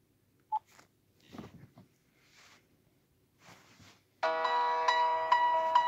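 After a few quiet clicks and handling sounds, a PinePhone running Sailfish OS rings with an incoming call, its ringtone starting suddenly and playing a bright, steady melody.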